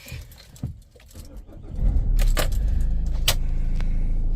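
Keys jangle close by, then a camper van's engine turns over and settles into a steady, loud running rumble.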